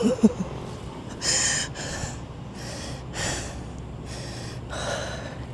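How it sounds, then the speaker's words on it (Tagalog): A person breathes heavily while walking and jogging, with rhythmic loud exhales and snorting breaths repeating about every second, close to the microphone. "Rinig niyo ba ang aking paghinga?"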